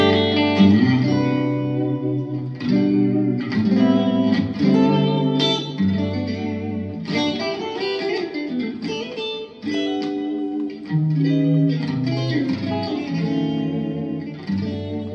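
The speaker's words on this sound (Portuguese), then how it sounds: "E aqui tem um reverb plate." Guitar played through a plate reverb and delay preset on a Mooer GE300 multi-effects unit. A sustained, loud melodic passage of chords and single notes with a lush, echoing tail that lingers throughout.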